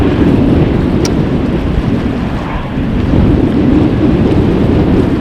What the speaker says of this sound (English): It is a very stormy Monday here in the Netherlands.